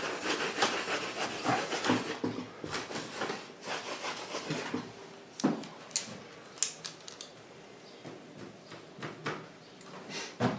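Rubbing paint off a canvas painting: bursts of brisk scratchy strokes close up, easing into sparser scrapes and light taps with quieter gaps between.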